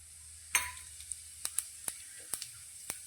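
Cumin seeds hit hot oil with popping mustard seeds: a sharp burst of sizzle, then a steady crackle with scattered, distinct pops, close and moderately loud, with no voices.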